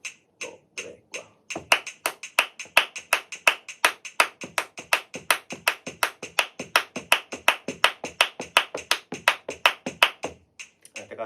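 Flamenco rumba palmas played at a slow tempo: a long run of sharp, evenly spaced hand claps with a steady pulse and regular accents, loud and close, with no talking over it.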